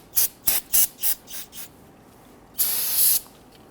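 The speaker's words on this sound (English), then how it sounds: "Use some spray solvent to clean up any of the residual brake fluid." Aerosol solvent spray cleaning residual brake fluid off a front brake caliper on a 2010-2019 Ford Taurus: six short hissing bursts in a row, fading, then one longer sustained spray, close and alone.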